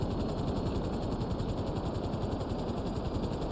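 Helicopter in the video game GTA Online, a steady close rotor and engine roar with a dense whooshing, noisy texture that holds constant throughout, with no talk over it.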